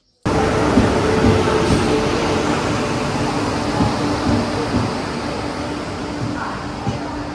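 A steady, loud rumble and hum of a Vande Bharat passenger train in motion, heard from inside the carriage with a constant airy drone.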